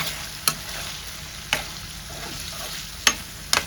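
Marinated chicken being fried and stirred in a pan, a steady sizzle broken by four sharp spatula scrapes against the metal, close and clear with no talking.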